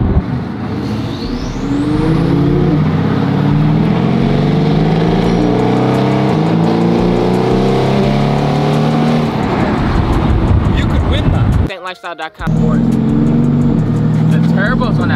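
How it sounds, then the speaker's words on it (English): Turbocharged car engine revving and accelerating loudly up through the gears, with a brief cut near the end, under and alongside people talking inside the car in traffic. "The turbos on that thing sound so good."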